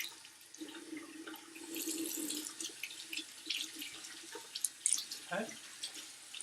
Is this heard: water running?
yes